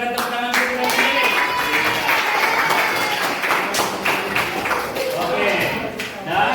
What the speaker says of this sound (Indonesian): berikan tepuk tangan untuk Daniel.